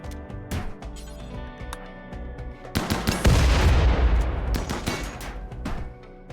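Gunfire in the RimWorld video game as raiders shoot at defensive turrets, with dense, loud overlapping bursts of shots and booms building to a sustained barrage.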